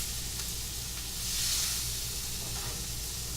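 Meat sears in a hot pan alongside potatoes, giving a steady, close sizzle and hiss that runs unbroken, swells slightly near the middle, and carries no voices.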